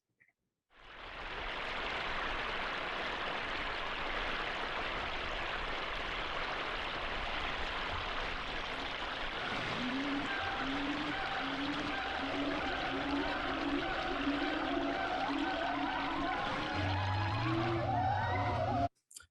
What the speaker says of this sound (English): a waterfall in Thailand might sound like this